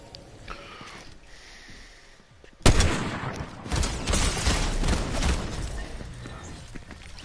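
Sniper rifle fire in a video game: a quiet stretch of low ambience ends in a sudden sharp shot, followed by several more loud reports and crackling firefight noise.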